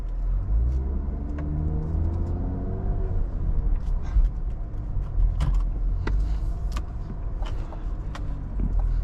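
A 2023 Cadillac CT5-V being driven, with a steady low road and engine rumble inside the cabin, plus occasional faint clicks and interior mechanism sounds, no talking.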